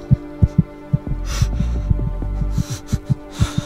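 A racing heartbeat sound effect: loud, close thumps in a quick, steady rhythm over a low throbbing hum, with no voices.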